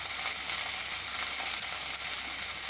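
Ginger and garlic fry in a pan for a biryani with a constant, dense sizzle that holds steady throughout, close and moderately loud, and no one speaks.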